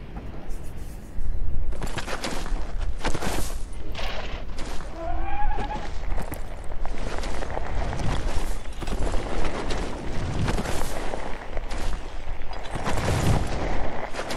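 A horse neighs briefly in Elden Ring, amid loud bursts of combat noise and a voice talking throughout.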